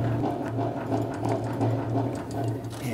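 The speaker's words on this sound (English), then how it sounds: "Simply lower the table by cranking the handle" A handle is cranked to lower the table of a SuperMax 37x2 double drum sander, giving a steady, rhythmic mechanical whirring and ratcheting close by, faint and evenly paced with no talking.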